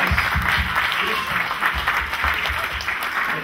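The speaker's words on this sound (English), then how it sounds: "So let's give them a big round of applause." Steady, dense applause from an audience clapping for children after their performance at a Balalmela event, a continuous wash of many hands at moderate distance, with faint voices underneath.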